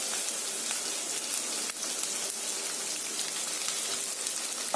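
Ginger, garlic, green chilies and curry leaves sizzle steadily in a hot pan over a low flame, a dense close crackle without pause.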